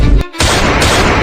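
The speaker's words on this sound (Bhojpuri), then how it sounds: "गोली चल गया फायरिंग कीजिए फायरिंग" Gunfire in a staged rural confrontation with police: loud, blasting bursts close by that fill the whole clip, broken only by a short gap before the shots resume as a sustained barrage.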